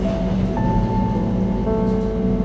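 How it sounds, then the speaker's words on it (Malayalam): A Swiss mountain train climbing from Grindelwald to Kleine Scheidegg gives a steady loud rumble and rattle from inside the carriage, with faint squealing tones from the wheels running above the constant drone. "ഇത് ഏകദേശം ആ രീതിയിലുള്ളൊരു ട്രെയിൻ ആട്ടാ."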